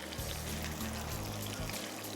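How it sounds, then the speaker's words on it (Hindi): Water poured into cooking masala for mongochi, a steady pouring stream with a low hum and a few pauses and bumps, close and alone without talk. "तो अभी पानी दीजिएगा बेटा थोड़ा सा"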